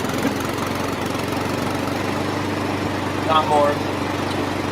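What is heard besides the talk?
lawn mower engine running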